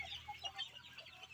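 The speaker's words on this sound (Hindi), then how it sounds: "दूसरे वाला सेटअप पर ये फैंसी मुर्गी है और बटेर है, यहाँ पर पूरा ये मुर्गियाँ यहाँ पर रखे हैं" Kadaknath chickens and fancy hens cluck softly in a farm setup, a faint, scattered series of short calls over low background noise.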